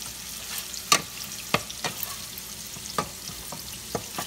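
Tomato with ginger-garlic paste fries in a pan for a salmon fish curry, giving a soft, steady sizzle. Sharp scrapes and clacks of a spatula stirring break in at irregular intervals, close by and fairly quiet.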